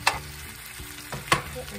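A spoon scrapes and stirs potatoes and purple onions frying in a pan, two distinct close clinks over a constant soft sizzle, with no talk.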